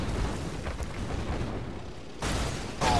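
Tank battle explosions in Red Alert 2 rumble as a continuous low roar of blasts, with heavier bursts swelling near the end, no voices over them.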